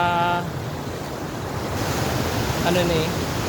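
Floodwater rushes below a road after Typhoon Uwan in Bicol, where an overflowing river and failed flood control swamped the area; a continuous broadband wash of flowing water with wind buffeting the microphone and faint voices.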